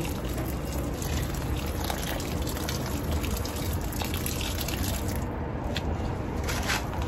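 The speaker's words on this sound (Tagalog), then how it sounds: "Lagyan na natin siya ng tubig." Water poured steadily onto a freshly repotted hibiscus in its new container, a continuous close splashing gush with no break throughout.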